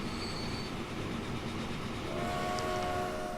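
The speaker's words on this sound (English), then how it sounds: "So here's my little baby goods train. A log train hauling 86 logs this time." A goods train in Transport Fever hauling 86 logs rumbles along with a steady low clatter, a faint whistle-like tone rising near the end; no voices.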